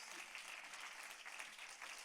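A congregation at a Sunday church service applauds together, a steady, quiet wash of many hands clapping at once, with no voices.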